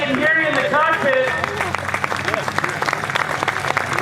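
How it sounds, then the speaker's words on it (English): Crowd applause at an airshow as STOL planes roll by after landing, a burst of clapping rising under an announcer's amplified voice, then scattered claps continuing. "Give them a round of applause, folks, as they come by."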